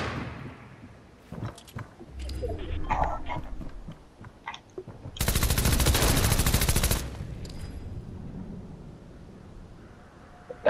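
Machine pistol in a video game fires a sustained rapid burst lasting about two seconds, loud and close, with scattered game clicks and thuds before and after it.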